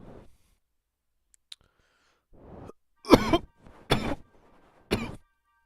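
Several harsh coughs burst out in a row, each loud and close, separated by short pauses and quieter breaths.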